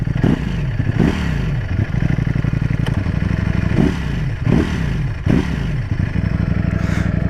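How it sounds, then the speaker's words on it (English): A 2022 Ducati Streetfighter V4 on its stock exhaust is blipped up from idle in a series of about six sharp revs, each rising and falling back, loud and close. "I'll give it a couple revs."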